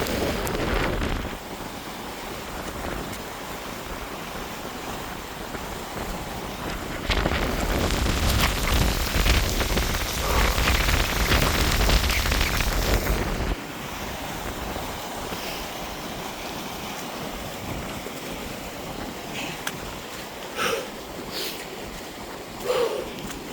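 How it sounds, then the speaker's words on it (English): Steady wind and rain roar outdoors on Pendle Hill in 70 mph winds, swelling into a heavier, louder gust midway before easing back to a constant rushing hiss. "It's just coming right up this valley, this fucking wind and rain."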